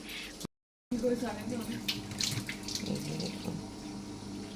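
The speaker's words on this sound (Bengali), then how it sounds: "আমার মেয়ে এখন দাঁত ব্রাশ করছে" A tap runs steadily in the morning while a girl brushes her teeth, a continuous moderate water flow with a brief cut near the start and some soft voices under it.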